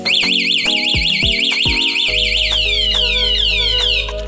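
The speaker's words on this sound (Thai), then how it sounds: "จะมีเสียงร้องเตือนก่อนครับ" A loud motorcycle anti-theft alarm on a Honda Wave 110i cycles through warbling, rising and falling siren tones, close and continuous for several seconds.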